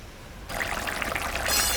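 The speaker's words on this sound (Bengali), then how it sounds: "এখন আমি জল দিয়ে দিলাম" Water poured into a pan of curry cooking puishak with leta fish, starting after a quiet moment as a steady close splashing pour that grows slightly louder toward the end.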